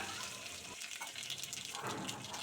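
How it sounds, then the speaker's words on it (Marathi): Mustard seeds and cumin, a spoonful each, crackle and sizzle in well-heated oil in a home kitchen pan, a steady hiss with small pops throughout, close and alone. "तेल चांगले गरम झाले राई आणि जिरे एक एक चमचा घालून घेतली"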